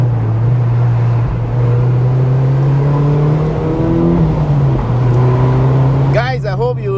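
A Mazda MX5 Miata cruises with a steady engine drone whose pitch dips and settles around a gear shift, close and loud. A voice joins near the end.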